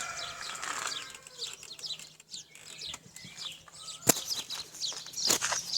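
Pigeons released into flight, their wings flapping in a burst of irregular beats with chirps and calls scattered over the top, a couple of louder close claps standing out near the end.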